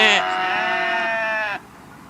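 Sheep bleating: a single loud, close, drawn-out bleat lasting over a second, standing alone before fading into quiet.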